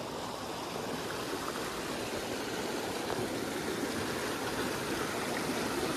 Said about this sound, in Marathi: तिथून खाली इथे पाणी पडत राहतं. पाणी कंटिन्यू चालू आहे.